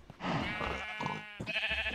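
Sheep on a Minecraft server bleat in two or three wavering calls, fairly close, with short pauses between them.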